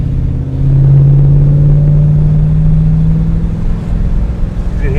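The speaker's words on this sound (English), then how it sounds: "You can hear a slight exhaust leak, but it's really, really, really quite nice." A 1979 Aston Martin V8 coupe runs with a steady, loud low rumble that swells early and holds, carrying a faint exhaust-leak ticking; a brief higher tone rises near the end.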